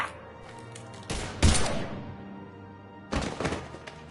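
Gunfire in the Mass Effect 3 video game: two sharp, loud bursts close together, a quiet gap, then another burst, over a low background hum with no speech.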